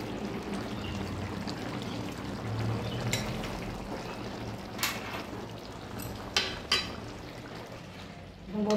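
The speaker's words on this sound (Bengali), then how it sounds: "এবার আমি কড়াই থেকে নামিয়ে নেব।" Mushroom curry is tipped out of a wok with a soft, continuous pouring and sliding sound, broken by a few sharp clinks of a utensil near the end.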